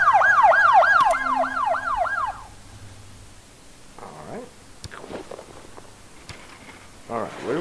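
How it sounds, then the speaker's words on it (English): An ambulance siren wails in the hospital-management game Project Hospital, a loud, rising and falling electronic tone over the first couple of seconds, followed by quieter game sounds and brief bursts of noise. "Oh, ambulance."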